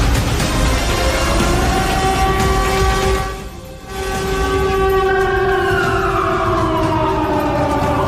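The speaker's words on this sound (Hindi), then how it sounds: "मॉस्को में खतरे का सायरन क्यों बज रहा है?" A wailing air raid warning siren in Moscow drones loudly and continuously, dipping briefly in the middle before rising again over a rumbling background.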